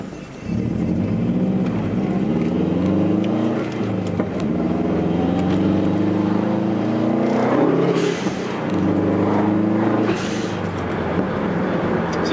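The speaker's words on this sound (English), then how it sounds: "See, I'm able to roll forward and stuff in first gear." Car with a Competition Stage 3 clutch, freshly broken in, rolling forward in first gear; a steady, loud engine drone with a low harmonic hum runs unbroken throughout, with no talk over it.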